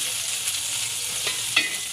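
Eggplant pieces frying in a pan, a soft steady sizzle with a few small crackles and a light clink of turning near the end, no talking.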